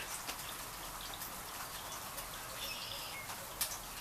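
Light raindrops falling in a backyard, a faint, steady patter of drips with soft bird calls in the distance.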